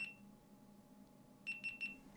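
Three short, evenly spaced high-pitched electronic beeps from a GoPro action camera stopping recording sound in quick succession after a quiet stretch with low background hum.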